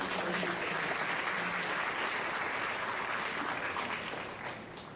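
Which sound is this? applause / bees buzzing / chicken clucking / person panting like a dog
applause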